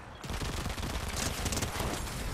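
Dense, rapid turret fire in a Fortnite match, a loud continuous rattle of shots with no pause.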